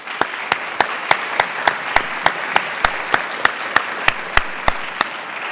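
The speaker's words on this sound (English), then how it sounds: "We give a round of applause to the panel." An audience applauds a panel at a Climate Week NYC event, steady clapping with a few sharp, evenly spaced loud claps standing out near the microphone throughout.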